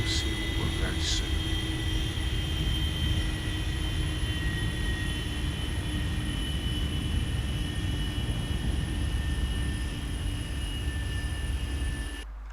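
Boeing 737 jet in the X-Plane 11 flight simulator coming in to land, a steady loud engine drone with high whining tones running throughout before cutting off at the end.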